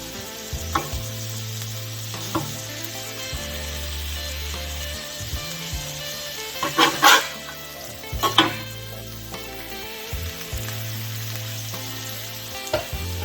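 Birria burger patties sizzle steadily on a small hot plate, a close, constant frying hiss with scraping and clinking bursts as they are flipped, with no talking.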